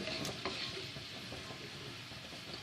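Chicken pieces sautéed and fried in a pan over a high flame for an aloo chicken shorba, giving a steady sizzle with soft stirring scrapes throughout, with no talking.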